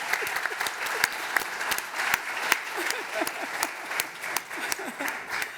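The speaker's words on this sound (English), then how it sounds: "Please give us a round of applause." A conference audience at a symposium on courts and the rule of law applauds, with a sparse, fairly close round of clapping where individual sharp claps stand out, plus faint voices mixed in.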